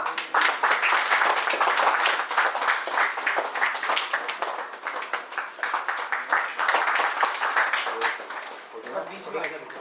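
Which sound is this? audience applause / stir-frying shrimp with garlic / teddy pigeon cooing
audience applause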